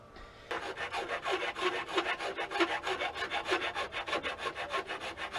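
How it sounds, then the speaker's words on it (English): A metal hand file scrapes the freshly hacksawed edge of a motorcycle part during a tail tidy install on a Honda CB500X, with quick, even rasping strokes repeating close by and no talking. "Get in here with a file and clean that up."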